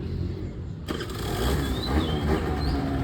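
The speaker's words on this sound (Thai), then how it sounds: "เครื่องฟิตสตาร์ทติดง่ายนะครับ นี่ นี่เครื่องติดแล้วนะครับ" A Suzuki Verde 50cc small motorcycle engine fires up abruptly after a short quiet moment, then settles into a steady, close, rattling idle.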